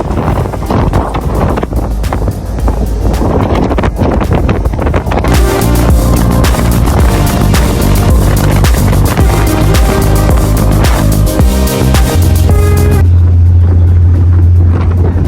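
Strong wind roars and buffets the microphone on the open deck of a Hazira–Ghogha ro-ro ferry running at full speed. The rush is loud and continuous, with steady tonal hums and music-like tones layered over it for much of the stretch.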